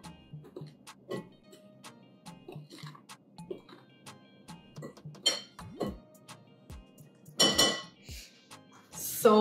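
Cereal milk waffle batter is stirred in a bowl, giving irregular light clinks and taps of a utensil against the bowl and a few louder scraping bursts near the end, in a quiet kitchen.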